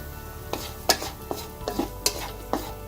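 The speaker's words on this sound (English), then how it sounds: "we're going to first throw in a handful of cashew nuts and fry that first" Cashew nuts fry in a pan with a soft steady sizzle, while a utensil stirs them in several distinct scraping strokes close by, and no voices are heard.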